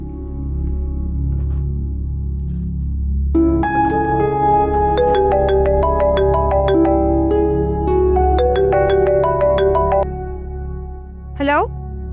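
A mobile phone rings indoors with a loud, repeating melodic tone that plays for several seconds and then stops, while a voice speaks briefly in the background.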